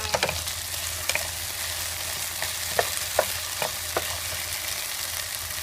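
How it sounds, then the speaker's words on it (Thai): Peas and corn kernels are stir-fried in a pan, making a steady close sizzle broken by several light scraping stirs and small clicks. "ใส่ ผักเม็ดๆแบบนี้เพิ่มนะคะ เป็นเม็ดถั่วนะคะ เม็ดข้าวโพด อยากให้มันสวยงามนะคะ ก็ผัดไป"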